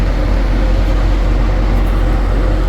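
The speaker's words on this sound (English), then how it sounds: "That is our current air conditioner." A room air conditioner runs with a loud, constant low rumble and broadband whoosh, heard close and unchanging throughout with no voices.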